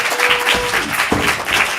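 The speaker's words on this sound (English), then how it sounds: "give once again a big round of applause for your kids" Audience applause at a youth improv comedy showcase, a steady wash of clapping that fills the short moment at moderate loudness.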